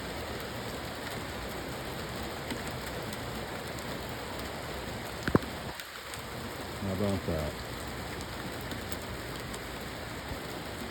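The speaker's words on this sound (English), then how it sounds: "Raining away, raining away." Steady rain pattering on a surface, a constant hiss throughout, with a sharp click and a brief spoken phrase partway through.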